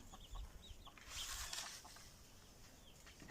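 Free-roaming chickens in a family's summer country garden in August, giving a few faint, soft clucks over quiet outdoor ambience, heard at a distance with no talking.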